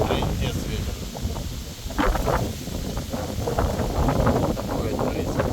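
Strong wind in a thunderstorm buffets the microphone with broad, gusting roars and rustling bursts. Someone talks over it.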